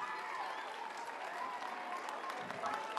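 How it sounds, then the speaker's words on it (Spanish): Schoolchildren at a World Water Day school event applauding two winning students, a soft, distant patter of clapping with faint children's voices mixed in. "Un aplauso para los dos alumnos"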